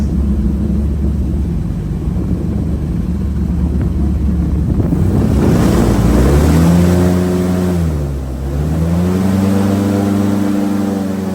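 A loud airboat engine roars steadily nearby, its pitch rising and then dipping briefly as it revs, with a heavy low rumble and wind buffeting.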